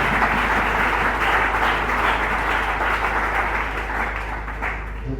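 Church congregation cheering and applauding during a worship service, a steady dense wash of clapping and voices that holds loud for about five seconds before easing slightly at the end.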